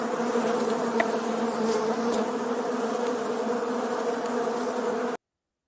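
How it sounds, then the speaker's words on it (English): A swarm of bees buzzes in a loud, dense, continuous drone, steady and close, holding unbroken before cutting off abruptly at the end. "We had to let the bees swarm on that one because that's pretty cool."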